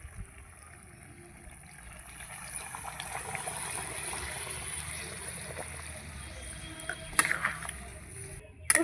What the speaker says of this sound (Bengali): এই জলটাই ঢেলে দেবো মাংসের মধ্যে।